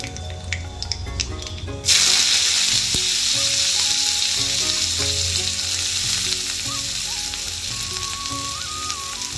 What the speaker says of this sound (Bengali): কালো জিরা ফোড়নে দিয়ে সিমটা ভেজে নেবো